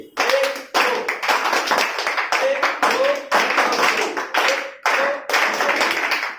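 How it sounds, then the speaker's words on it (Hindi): A class claps in repeated short, unison bursts, each a tight cluster of sharp hand claps separated by brief pauses, loud and close throughout. "तो इसके लिए भी 3 तालियां होनी चाहिए"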